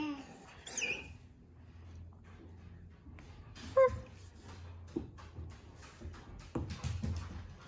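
A Leonberger puppy named Lucy gives a few sparse, soft high yips and whimpery woofs at close range, with quiet pauses and light rustling between them and a baby's small vocal sounds mixed in.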